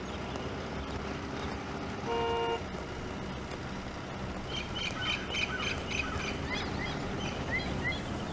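As a car arrives, its horn gives one short, clear toot over a low outdoor background, followed a couple of seconds later by a scatter of bright, bird-like chirps.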